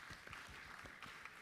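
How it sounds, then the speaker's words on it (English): Audience clapping for a speaker at a Nairobi tech week event, a short burst of moderate applause from a modest crowd, fairly close and steady. "A very big clap for her."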